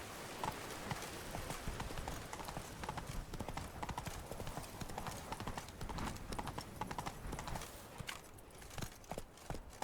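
Hooves of Roach, the horse in the video game The Witcher 3: Blood and Wine, clop in a rapid, steady gallop rhythm, loud and continuous with a brief whinny.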